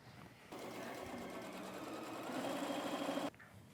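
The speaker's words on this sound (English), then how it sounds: "Sewing them on, flipping them over." A sewing machine stitching fabric strips onto a tote bag, a steady close mechanical whirring burst of about three seconds that speeds up slightly before stopping abruptly.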